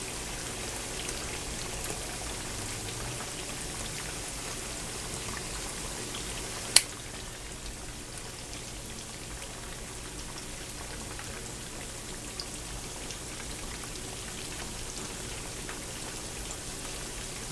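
Fish pieces and potatoes frying together in a single skillet over raised heat, giving a steady, even sizzle and crackle throughout with one sharp pop partway through; no talking.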